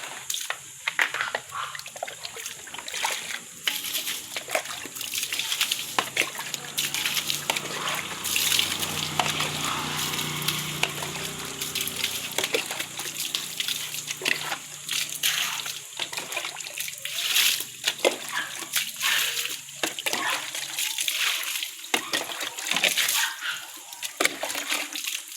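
Water sloshes and splashes from a bucket outdoors in repeated irregular bursts, loud and close, with trickles between throws and no clear speech.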